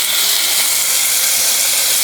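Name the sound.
tomato sizzling as it is added to the pan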